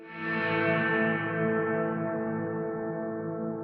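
A Line 6 Helix Bloom reverb at full wet mix turns a single sustained guitar chord into a lush, swelling wash that hangs and slowly fades, heard alone.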